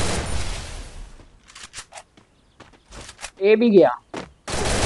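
Burst of M10 gunfire in the Free Fire MAX battle royale game, a short loud cluster of shots in the middle, with a player talking before and after.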